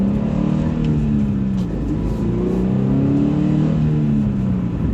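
A manual Subaru BRZ sports car's engine revs steadily, its low drone rising and falling in pitch, loud and continuous from start to end.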